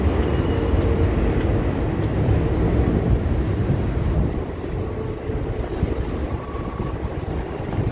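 A New York subway D line train rumbles at the Coney Island terminal, a steady loud low roar of wheels and cars with faint squeals, easing slightly as it moves, with no voices.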